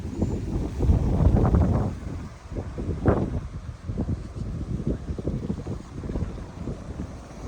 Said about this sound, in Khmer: អូខ្យល់